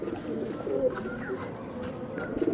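A pair of Madras pigeons coo softly, low throaty calls carrying close over a steady background hum.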